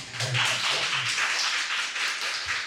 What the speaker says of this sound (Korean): 큰 박수로 맞아주시기